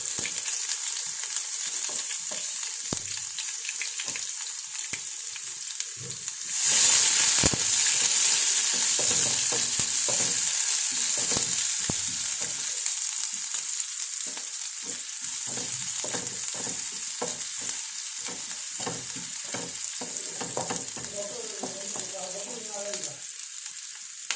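Mustard seeds popping and frying in hot oil at home while breakfast is made, with a steady loud sizzle, a burst of spitting around the middle and scattered crackles and stirring clatter throughout.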